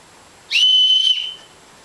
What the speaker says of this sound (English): the little whistle, which I will just give a quick demonstration of now